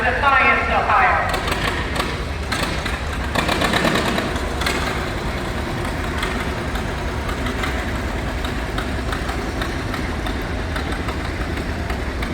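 A 1955 John Deere 60 tractor rolls past in a threshers' parade, its engine chugging steadily up close while people talk over it throughout.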